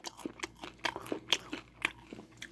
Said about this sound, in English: Oh, ASMR popcorn.